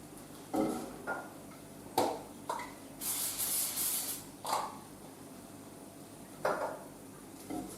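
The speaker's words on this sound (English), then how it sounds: "just with a spray of olive oil" Several short bursts of olive oil spray onto a pan, with one longer hissing spray in the middle, separated by pauses and a few soft clinks.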